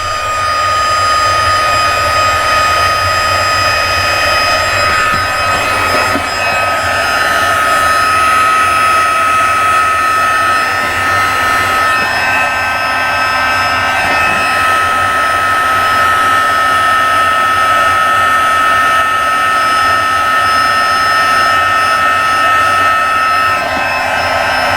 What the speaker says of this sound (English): I'm going to heat up my embossing tool. This is the Stampin' Up heat tool.